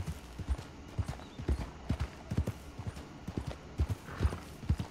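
Hooves of a horse in a horse-riding video game clip-clop at a steady walking rhythm, close and fairly loud, with no talking over them.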